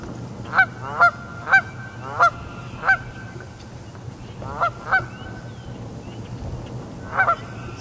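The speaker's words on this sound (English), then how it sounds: "I've gone from having no Canada geese on this lake ever to I've got three pairs here now." Canada geese honk repeatedly in short bursts, some in quick doubled calls, at moderate distance over a quiet low hum.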